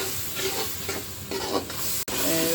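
Tomatoes frying in a pan with ginger-cumin spice paste, a continuous close sizzle broken by rhythmic stirring scrapes, with a brief cut near the end.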